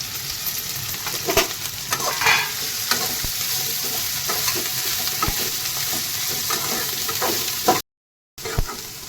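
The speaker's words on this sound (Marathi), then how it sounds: "त्याच्यामध्ये आपण भेंडी टाकूया जी कापून घेतली होती ती भेंडी टाकून एकदम व्यवस्थित अशी भाजून घ्यायची आहे" Sliced okra (bhindi) stir-frying in a pan for a spicy masala dish, giving a steady close sizzle broken by the scrape and knock of a spatula stirring, with a brief gap near the end.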